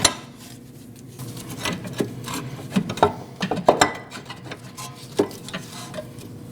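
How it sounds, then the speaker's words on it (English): A bolt slides out of a rear upper control arm mount on a 2014–2023 Jeep Cherokee, with scraping metallic rasps, taps and clinks in an irregular series, close and moderate with no talking. "Slide that bolt out."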